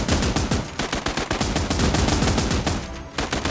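Sustained rapid automatic gunfire from machine guns in the Last Train Home video game, dense overlapping bursts that rattle on nearly continuously for several seconds with a brief dip near the end.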